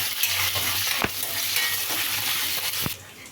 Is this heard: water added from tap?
no